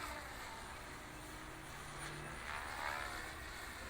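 A model helicopter flies big loops in gusty wind, its rotor whine and engine drone steady and fairly distant, blended with wind noise and swelling slightly toward the end.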